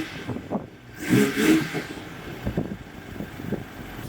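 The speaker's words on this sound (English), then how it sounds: "let me start up the car so you guys can hear what it kind of sounds like" A BMW X3/X4 M40i engine fitted with an aftermarket MST intake cranks and catches, giving a short throaty burst before settling into a rough idle close by.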